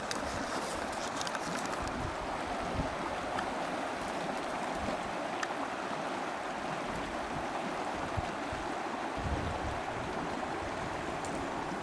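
A cold snow-melt river at high elevation rushes steadily and loudly, a continuous broadband roar of flowing water with no voices.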